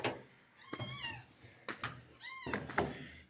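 Kitten rescued from a car engine gives several distinct meows, each a rising-falling cry, close and clear with short gaps of quiet between them.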